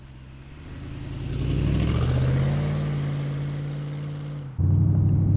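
A 1932 Ford street rod pulls away, its engine note climbing and then holding a steady, fairly close drone as it cruises, with a brief dip and a thump before the engine sound resumes.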